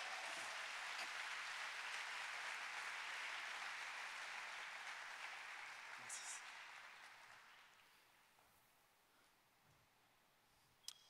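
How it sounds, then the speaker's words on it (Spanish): A church congregation applauds together in a steady, full wash of clapping that holds for several seconds, then thins and fades out toward the end, leaving near silence and a faint tap at the close. "Vamos a darle ese aplauso a Jesús."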